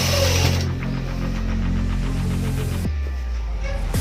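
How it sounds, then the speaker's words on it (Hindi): Sewing machine running a continuous stitch along a Patiala salwar seam, a steady mechanical whir that briefly pauses and resumes near the end. "बस यहीं तक सिलाई चलाना है।"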